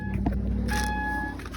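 A car engine cranks and catches after the ignition switch is turned, with a sustained mechanical roar under steady electronic chime tones, fairly close.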